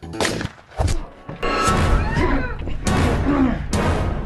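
Loud gunfire and explosive thuds from a film scene, heavy booming bursts in quick succession mixed with dense clattering action noise and shouting voices.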